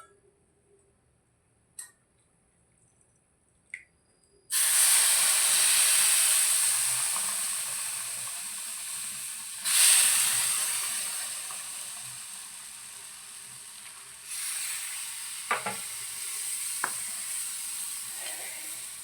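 Hot water poured into a hot pan of mango kesari bath sets off a sudden loud sizzling hiss that fades slowly. A second hissing surge follows, then quieter bubbling with light stirring clinks.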